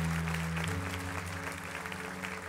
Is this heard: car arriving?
no